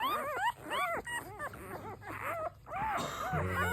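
Week-old American Bully puppies whimpering and squeaking close by in a string of short, rising and falling cries, with soft background rustle and a quieter stretch before the last whine.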